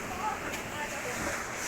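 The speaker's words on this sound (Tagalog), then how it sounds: "Lakas ng alon, te." Strong ocean waves break on the shore at Tambobong, Dasol, Pangasinan, heard as a soft, continuous wash of surf mixed with wind buffeting the microphone.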